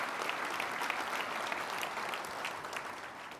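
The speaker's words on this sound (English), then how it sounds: "You got to give Manitoba a round of applause for that." Steady applause from a large audience at a provincial State of the Province address, with dense, sustained clapping that fills the room and slowly fades a little toward the end.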